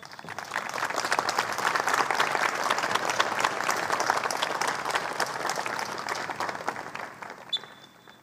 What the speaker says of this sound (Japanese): それでは私たちと一緒にみんなで感謝の拍手を送りましょう